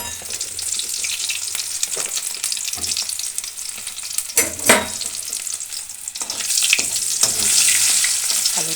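Potatoes fry in a pan of oil with a steady close sizzle, with occasional stirring scrapes and crackles and a brief louder burst of spattering around the middle, then a somewhat stronger sizzle toward the end.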